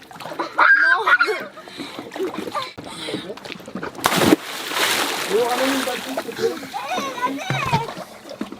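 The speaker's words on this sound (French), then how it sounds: "ils montent sur l'annexe et ils sautent dans l'eau" People leap off a dinghy into the water, producing a few loud splashes and sloshing, with excited talk and children's voices throughout, outdoors.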